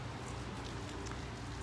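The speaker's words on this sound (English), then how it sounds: "It's raining now pretty heavily" Heavy rain falls steadily outdoors, a dense, even hiss of drops that stays constant and close throughout with no voices.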